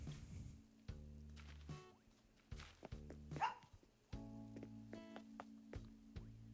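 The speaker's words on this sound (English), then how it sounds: "She'll quit barking eventually." A pet dog named Bella barks in short, repeated bursts, each a cluster of loud, close yaps with brief pauses between, alongside faint shuffling and a few soft squishy noises, with no talking.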